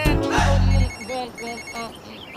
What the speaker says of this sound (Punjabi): ਲੈ ਜੈਲੀ ਦਾ ਫੋਨ ਹੈ,